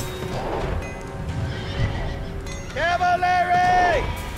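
Cavalry horses in the video game Ancestors Legacy gallop with a busy clatter of hooves amid battle commotion, then one horse lets out a loud, drawn-out neigh close by.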